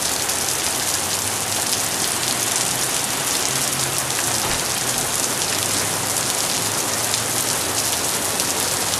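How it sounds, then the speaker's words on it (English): Steady rain falls throughout on a hot day, a dense, even hiss of drops hitting surfaces with no pauses and no voices. "Looks like we're moving in for rain for a while."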